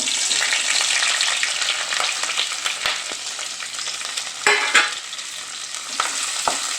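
Chopped onion and green chili fry in hot oil, a continuous bright crackling sizzle with occasional light stirring knocks, close and with no talk.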